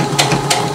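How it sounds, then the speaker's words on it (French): A sewing machine stitches along a chalk line on a trouser fly, a loud, close, rapid mechanical clatter with a steady rhythmic pulse. "Et on vient coudre comme ça. En suivant le tracé qu'on a réalisé à la craie."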